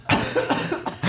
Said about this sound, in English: I just had to cough out of nowhere.